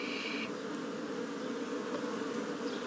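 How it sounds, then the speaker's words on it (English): Honeybees drone steadily around an opened top bar hive during an inspection, a continuous close buzz with a brief higher whine at the start. "Sorry, bees."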